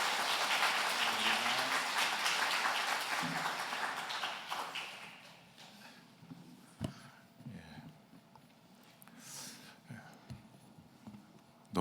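Audience in a church applauding to welcome a lecturer, steady clapping that fades out after a few seconds, leaving scattered taps and soft room noise.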